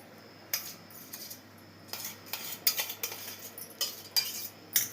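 Ground modak dough is scraped from a steel mixer jar onto a plate. A spoon clinks and taps against the metal repeatedly in short, close bursts.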